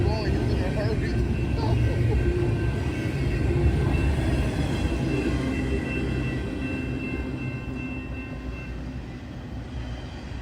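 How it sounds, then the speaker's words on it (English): A freight train rolls through Muncie with a steady, loud rumble and rail noise that fades slightly toward the end, with a voice partly audible over it. "The train's still going."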